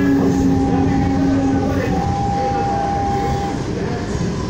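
A Supervia suburban commuter train on the Japeri line sits at Queimados station, a loud steady rumble and hum with brief high tonal whines from the equipment, continuous throughout with no clear speech.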